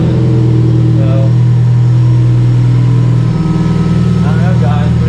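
A 2006 Subaru STI engine idles steadily up close, a constant low hum with a slight drop in pitch near the end, while a voice talks over it.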